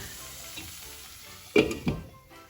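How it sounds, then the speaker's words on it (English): Potatoes sizzling in a pan of green curry paste for a Thai green curry with tofu, a soft steady frying hiss with two brief louder stirring scrapes near the end. "keep it for about 2 minutes for the potatoes to saute in this green curry paste"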